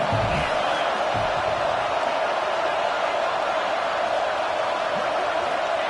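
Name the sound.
football stadium crowd roaring on third down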